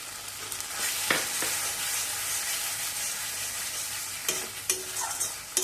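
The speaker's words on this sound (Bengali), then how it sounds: "এবার পোস্ত কাজু মৌরি বাটাটাও একটু কষিয়ে দেবো" Poppy seed, cashew and fennel paste sautéing with onions in a pan for a Bengali rohu curry, a continuous sizzle broken by several sharp spoon scrapes and stirring knocks, close and clear with no voices.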